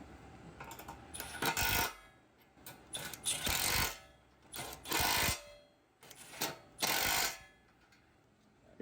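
Bolts on the bar of a Toyota Tacoma front bumper are tightened with a ratcheting tool in four bursts of rapid clicking, close and fairly quiet, separated by short pauses.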